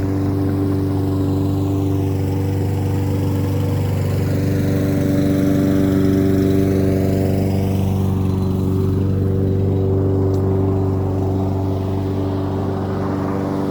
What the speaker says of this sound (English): got a guy out here cutting his grass, so it's going to get loud for just a moment